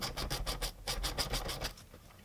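A hand ratchet loosening the 19 mm steering wheel nut on a Nissan GTR, a quick run of about a dozen rhythmic close clicks, rasping evenly and then stopping.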